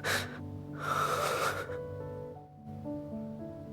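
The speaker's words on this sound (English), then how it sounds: "Why is he breathing like that?" Caleb, a character in the video game Love and Deepspace, breathes heavily in his sleep. Raspy, wheezing breaths rise and fall in two strong bursts over a low musical backdrop, close and fairly quiet.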